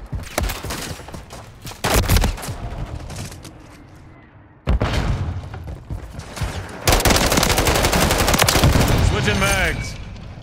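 Loud automatic gunfire in Call of Duty: Modern Warfare 3 on a high-rise map: sharp bursts and sustained rattling volleys, close, with booming impacts and occasional radio-style voices.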